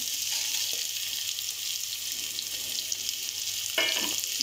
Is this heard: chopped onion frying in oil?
yes